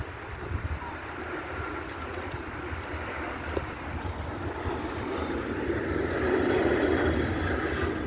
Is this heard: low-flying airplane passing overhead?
yes